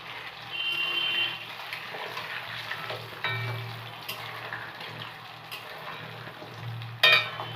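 Chhena (paneer) tikki fry in hot oil in a pan, giving a soft, steady sizzle with a few light clinks and a sharper knock near the end.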